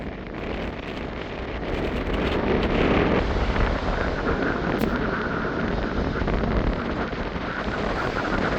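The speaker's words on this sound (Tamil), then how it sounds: "இந்த இடத்துல வந்து அந்த காற்று கொஞ்சம் இன்னும் கூடவாக இருக்குது" Strong, continuous wind roars and buffets the microphone on the Keerimalai coast near Jaffna during a storm, a loud broadband rush that swells slightly after the first couple of seconds and holds steady.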